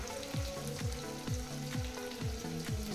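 Chopped onion and tomato with salt and turmeric frying in a pan, a continuous soft sizzle with repeated rhythmic scraping strokes from stirring, moderately quiet and with no voices.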